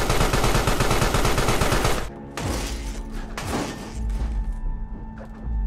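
Rapid automatic gunfire from an enemy in Carrion rattles loudly for about two seconds. A few heavy single shots and thuds follow, with a low rumble underneath.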